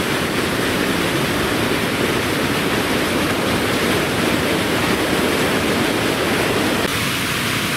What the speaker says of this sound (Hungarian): Itt van a fő sodrás, és itt mellé ágból pedig zúg vissza a víz.